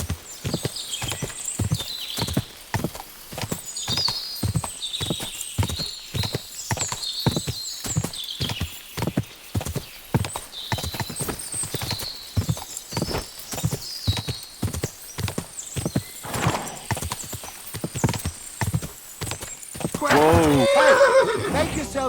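Rapid, steady clip-clop of hooves at a gallop runs throughout, with a loud horse whinny near the end; voices chatter briefly over the hoofbeats. From the video game Kingdom Come: Deliverance II.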